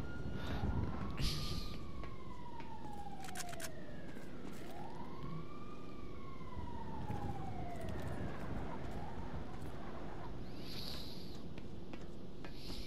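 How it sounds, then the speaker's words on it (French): Wailing ambulance sirens in the LSPD mod for GTA, several overlapping rising-and-falling tones that carry steadily over a dense backdrop of traffic and city noise, with no voices. "Les ambulances."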